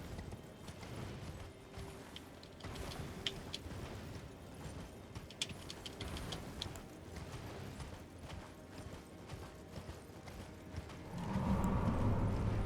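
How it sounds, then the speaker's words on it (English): Horse hooves clip-clop rapidly in a steady galloping rhythm through the Elden Ring game world, close and continuous with faint mechanical clinks, ending in a louder low rumble. "Go, horsey, go."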